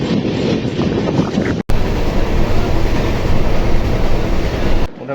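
A train pulls away from Chakulia station, its wagons rumbling and clattering loudly and steadily up close with wind buffeting the microphone, a brief cut near the start and the noise easing near the end.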